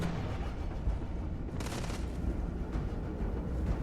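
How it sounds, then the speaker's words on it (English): Heavy gunfire from the video game Starfield rumbles in dense bursts of shots and booms, loud and continuous, with a sharper blast near the middle. "Who the hell's shooting me?"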